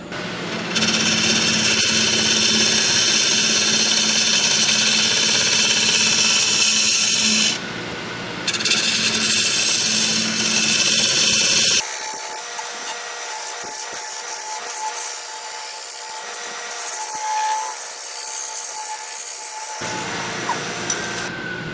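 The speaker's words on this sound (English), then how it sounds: "I'll come in with the round cutter now, so I can't clean that bottom up." A round cutter on a lathe shaves a spinning pecan wood goblet with a steady, loud scraping hiss that runs for most of the clip, with brief shifts in tone as the cut changes.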